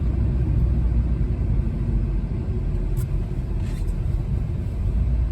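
A 2014 Opel Corsa D 1.4 drives along with a steady low engine and road rumble, smooth and continuous with no sharp breaks as gears change, heard from inside the car.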